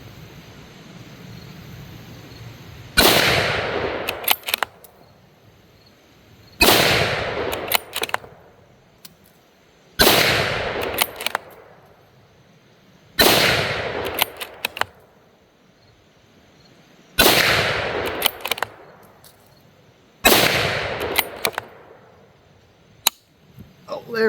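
A CVA Cascade SR-80 .308 scout rifle fitted with a muzzle brake fires six sharp, loud shots at a steady, unhurried pace outdoors at a 50-yard range, each blast followed by a short ringing decay.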